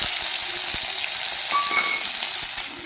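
Panch phoron whole spices crackling and tempering in hot oil in a pan, a loud, steady close-up sizzle with faint pops, no voices.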